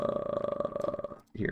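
Little burp-like sounds in a song, a rapid run of pulsing, gurgling low bursts over a steady tone, stopping briefly before the music resumes.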